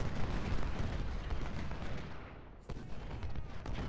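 Artillery fire in the Civil War battle game Ultimate General, a rumbling barrage of booming cannon shots layered over one another, loud and dense with brief sharp reports near the end.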